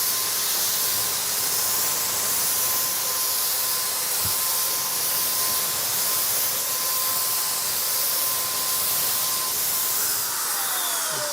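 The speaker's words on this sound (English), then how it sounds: "I'm going to spray this bit of masking tape that we put up on here." A Wagner Universal paint sprayer sprays emulsion paint onto a strip of masking tape, giving a steady, loud, continuous hiss from start to finish, with a faint clunk partway through.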